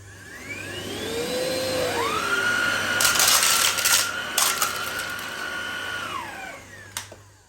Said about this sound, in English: Let's see how well it picks up large debris on a hard floor.